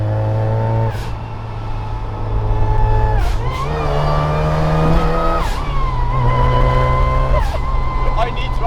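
A supercharged widebody 1990s Mazda MX5 MK2 roadster engine revving and pulling hard through the gears, a loud close buzzy drone rising in pitch with brief dips at shifts.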